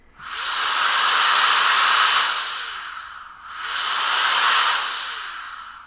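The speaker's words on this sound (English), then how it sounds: "the most intense and highest strength that you can get out of the air duster" A small portable electric air duster at its highest strength gives two loud, steady bursts of rushing air close up, each rising and fading, with a brief dip between them.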